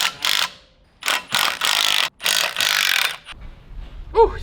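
A hand ratchet clicks in several quick, close bursts as bolts are loosened to remove the clutch from an LS1 engine, with brief pauses between strokes and a light metallic clink at the end.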